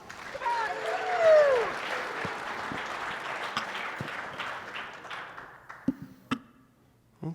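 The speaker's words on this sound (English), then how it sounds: "Let's give Brenda a big round of applause." Applause for Brenda from an audience at an agricultural AGM panel session, a steady patter of clapping through most of the clip with a voice talking over it, thinning out toward the end.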